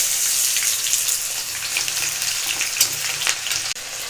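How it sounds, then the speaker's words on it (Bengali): Cumin seeds and chopped onions fry in hot oil with bay leaf, dried chili, cloves, cinnamon and cardamom for chicken kosha, a steady close hiss of sizzling with scattered pops and crackles, no voices. "সঙ্গে দিয়ে দিচ্ছি জিরা, সাদা জিরা, কুচনো পেঁয়াজ।"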